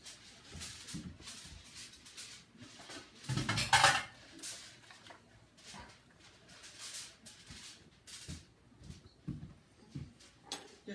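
Pots and dishes clatter into a kitchen sink during tagine and couscous cooking, a series of clinks and knocks with one loud ringing crash near the middle, then lighter scattered clanks.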